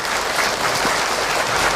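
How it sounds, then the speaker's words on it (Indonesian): Audience members at an Islamic lecture gathering clap together in a dense, steady burst of applause that stays even and full throughout. "boleh tepuk tangan untuk Ahilman Bu."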